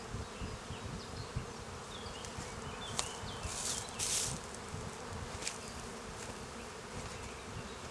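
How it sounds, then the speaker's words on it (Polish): Steady buzzing of many small bees close by, with a few sharper clicks and passing buzzes over a continuous drone; no speech. "Te pszczoły są małe"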